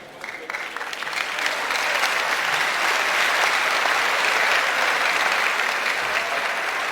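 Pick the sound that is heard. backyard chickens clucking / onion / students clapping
students clapping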